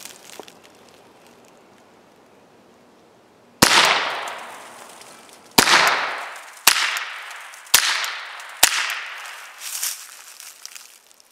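Gunshots fired at safety glasses in a bulletproof test: five loud, sharp reports spaced one to two seconds apart, each ringing briefly with a decaying tail, over a quiet outdoor background.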